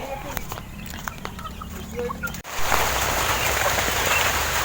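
Chickens and chicks cluck and peep over a steady outdoor background, then a sudden shift brings a louder, hissing wash of rain starting to fall on a surface.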